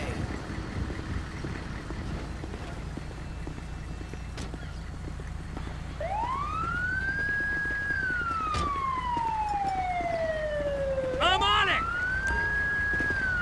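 Wailing ambulance siren in Grand Theft Auto V, rising and falling in long sweeps that start midway and grow louder, over a rumbling background with a few clicks.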